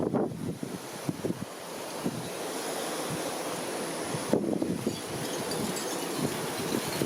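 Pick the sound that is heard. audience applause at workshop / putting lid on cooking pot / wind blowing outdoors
wind blowing outdoors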